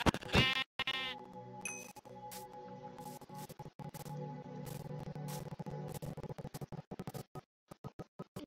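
Blocky sheep in Minecraft bleat sharply at the very start, one short wavering cry, then fade under game background sound with clicks and scattered bursts of play noise.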